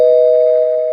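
A single sustained bell tone rung as a spoiler-warning effect on a comic book podcast, steady and loud for the full second with a slight fade, no talk over it.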